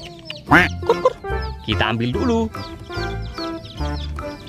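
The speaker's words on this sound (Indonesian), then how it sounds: "Wow, ayam rainbow lagi." Rainbow-colored chickens clucking alongside duck-like quacks, several short, close calls in bursts while someone talks over them.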